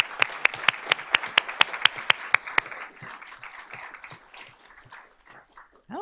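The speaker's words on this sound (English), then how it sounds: "But let's give them a round of applause." A few people at a school board of trustees honors meeting give a round of applause. Sharp, evenly spaced claps sound for a few seconds, then trail off into soft scattered sounds and near quiet.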